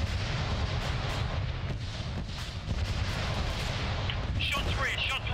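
Heavy artillery fire during a military field exercise, a dense continuous rumble of booms and bursts close by, with men's radio calls and shouting over it.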